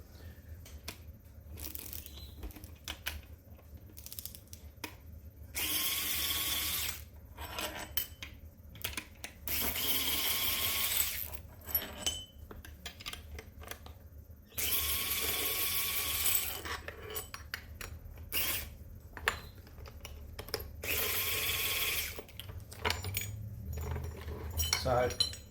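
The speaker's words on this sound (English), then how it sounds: "what I'm going to do is quickly disassemble this valve so you can see the internal components" Metal clinks and scrapes come from hand tools taking apart a PTFE-sealed valve during a rebuild. Bursts of jangling and rubbing alternate with quieter gaps, and a person talks between them.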